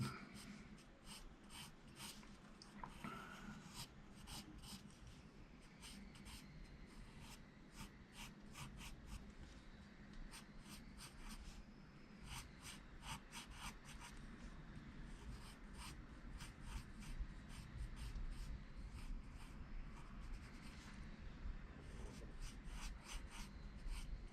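Steady scratchy strokes of a colored pencil drawing on paper, close and fairly quiet, a continuous rasping rub with rapid repeated back-and-forth marks and no talk.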